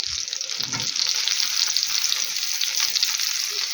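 Chicken chops sizzling and frying in a pan, a steady close crackle of hot oil throughout, with a brief scrape or stir near the start and no talking.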